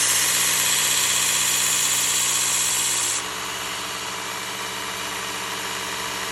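Work Sharp Ken Onion Elite belt sharpener with a worn 120-grit Cubitron belt running on kitchen shears, a steady motor whine with bright grinding hiss that drops away midway, leaving the motor humming alone.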